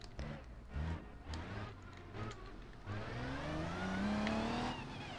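Gearbox whine from a car reversing in BeamNG Drive, a rising mechanical tone that climbs steadily in pitch alongside engine noise, loud and continuous with no talking.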